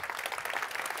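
Brief, fairly faint applause from an event audience, a soft continuous patter of clapping lasting about a second, with no talking.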